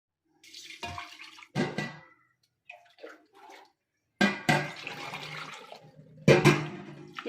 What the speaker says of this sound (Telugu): ఈ రైస్ని శుభ్రంగా కడుక్కుందామండి